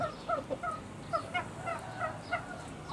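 Chickens being readied for transport cluck and call in a rhythmic series of short squawky notes, moderately close over a low background hum.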